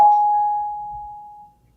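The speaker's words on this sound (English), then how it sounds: "That's my guitar." A single plucked guitar note rings out clearly and sustains with a bell-like tone, slowly decaying over about a second and a half, with faint low rumble underneath.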